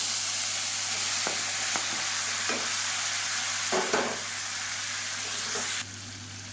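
Garlic and chopped tomatoes sizzle and fry steadily in a pan, with a constant close hiss broken by a few soft stirring clinks and scrapes.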